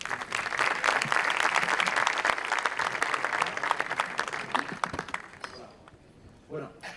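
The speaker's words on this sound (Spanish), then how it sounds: "Un fuerte aplauso para él." Sustained audience applause greeting a speaker at a conference talk on denial-of-service attack protection, dense clapping filling the room for about five seconds before tapering off into scattered claps.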